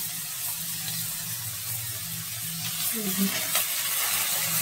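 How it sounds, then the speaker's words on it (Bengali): Onions frying in a pan, a soft continuous sizzle with a brief rise of stirring and crackle near the end, moderately close and fairly quiet, with faint voices in the background. "পেঁয়াজ দিয়ে দিচ্ছি একটু, দিয়ে দিলাম"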